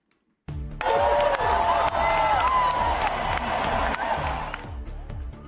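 A rock concert crowd cheers and screams loudly and continuously, with steady pounding music beats underneath, after a brief silent start and fading slightly near the end.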